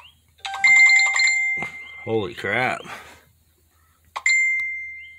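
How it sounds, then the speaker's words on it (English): Phone notification chimes at a race track, bright repeated electronic dings sounding twice with a pause between, while someone speaks briefly in between. "Phone's blowing up."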